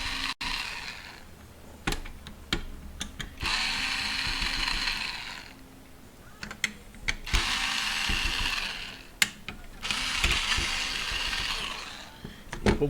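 A cordless screwdriver whirs in repeated bursts of a few seconds each while backing screws out of a Toshiba DVR620 during disassembly, with small clicks and handling noises between runs.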